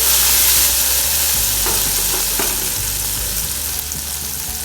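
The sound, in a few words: cumin and coriander tempering added to kadhi, sizzling and stirring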